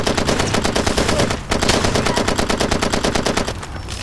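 Rapid automatic gunfire in the Far Cry 2 video game keeps up a loud, steady rattle of closely spaced shots. One brief pause breaks it before it fades slightly at the end.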